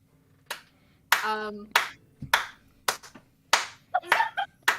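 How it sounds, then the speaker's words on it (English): Hands clap in short, uneven bursts, around eight sharp claps spread over a few seconds, with a brief voice at one point, as the audience responds during a live tabletop role-playing show. "Just openly clapping."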